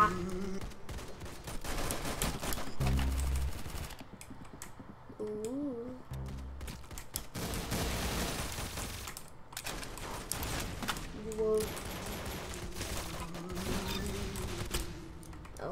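Gunfire in the Roblox shooter Arsenal, rapid automatic bursts and scattered shots in several clusters with short gaps between them, fairly close and sharp, alongside occasional game sound effects.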